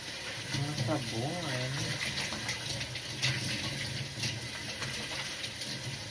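Running water pours steadily into a sink, with faint clinks and splashes of dishes being washed, while a voice talks quietly in the background.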